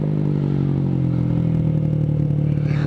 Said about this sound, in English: Without the baffle in, this exhaust is the most obnoxious thing in the world